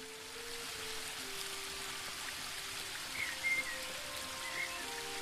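Waterfall in the fantasy video game The Book of Unwritten Tales 2: a steady, soft rushing hiss of falling water continues at an even level beneath faint, gentle background music, with no voices.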